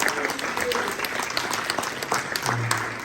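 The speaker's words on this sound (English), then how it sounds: "So can we just give Nero a round of applause?" An audience claps for a few seconds at a talk, a short burst of applause with a voice speaking over it.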